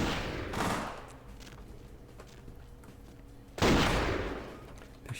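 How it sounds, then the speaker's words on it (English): Enemy gunfire in a Vampire: The Masquerade video game comes in two loud, dense bursts of rapid shots, one at the start and one about halfway through, with quieter rumbling between them. "They're shooting at me."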